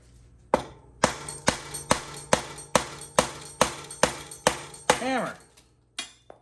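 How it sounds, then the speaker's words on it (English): A hammer strikes metal to knock out a bicycle crank from a BB30 bottom bracket. About a dozen sharp, ringing blows land close and loud in a steady rhythm, roughly two per second, then a short pause and one more hit. "Now to remove the other side of the crank, hammer."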